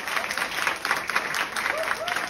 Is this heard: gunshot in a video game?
no